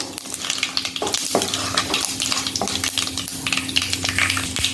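Fenugreek seeds and curry leaves fry in hot oil for a bitter gourd dish, giving a steady close sizzle with occasional scrapes and clinks of a stirring spoon against the pan.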